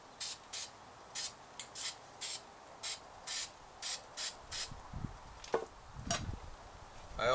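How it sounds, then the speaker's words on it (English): Short bursts of black spray paint hiss from an aerosol can into the inside of a Pringles can, a regular series of about a dozen quick sprays, then some rattling handling sounds. "I also spray paint the inside of the top."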